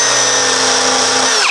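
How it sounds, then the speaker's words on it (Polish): A power sander grinds lightly across a rusty Land Rover Discovery body panel, giving a loud steady whine that runs unbroken, then winds down at the end. "Lekko szlifuję."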